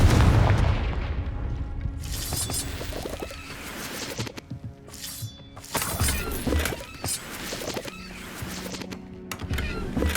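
A Confringo blasting spell in Hogwarts Legacy goes off as loud, booming explosions with shattering debris and crackling bursts that recur through the clip. No one speaks.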